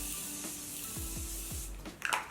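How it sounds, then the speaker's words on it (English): A Morphe Continuous Mist setting spray is sprayed in a steady fine hiss that lasts under two seconds, then soft handling clicks and rustles. "I'm gonna spray my Morphe Continuous Mist Spray"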